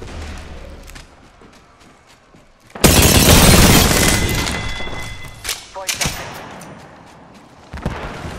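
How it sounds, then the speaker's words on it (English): A grenade blast in the Apex Legends video game erupts as a loud broadband explosion, then fades under scattered gunshots and thuds, with in-game voice lines around it. "Look out, grenade!"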